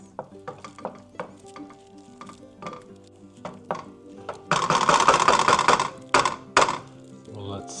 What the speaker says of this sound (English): we will continue to stir it though in the meantime, and while the pasta continues to cook